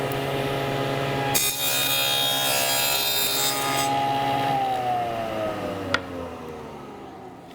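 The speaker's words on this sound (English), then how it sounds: "I set my height and I line up the cut where I want it to be." A table saw fitted with a dado blade cuts a dado into wood, a loud steady whine that grinds through the board for several seconds, then winds down as the blade slows.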